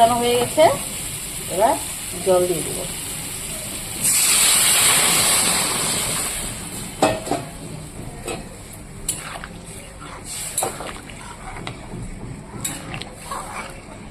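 A vegetarian vegetable curry bursts into a loud sizzling hiss as water hits the hot pan, settling after a couple of seconds into quieter bubbling with intermittent clinks and stirring; a voice speaks briefly before it.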